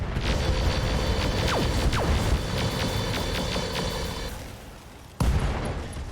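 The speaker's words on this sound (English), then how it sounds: "AC-5 ammo explosion." An AC-5 autocannon ammo explosion in the mech game RogueTech: a dense rumbling barrage of booms fades over several seconds, then one sharp loud blast hits near the end.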